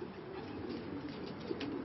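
Pigeons cooing on a rooftop where hundreds are kept, a steady close chorus of soft throaty coos running continuously without voices.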